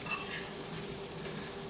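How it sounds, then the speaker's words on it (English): A pumpkin quinoa burger mixture sizzles faintly in a hot pan, a soft continuous crackle with no talking. "it's sizzling though, so that's always good"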